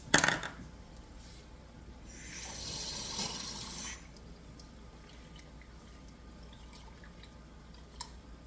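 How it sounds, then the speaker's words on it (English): Tap water runs into a measuring cup to rinse it out in a home kitchen, a soft splashing stream lasting about two seconds, with a faint clink at the start and another near the end. "Then add water and rinse it out."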